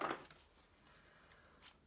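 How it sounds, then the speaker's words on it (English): A brief riffle of tarot cards being shuffled, a quick papery flutter at the start and another faint one near the end, in a quiet room. "One more shuffle."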